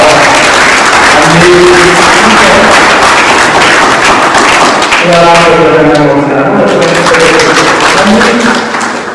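Applause from a consultants' conference audience, loud and continuous clapping over music and voices, with tonal chords rising midway and the sound tapering off near the end.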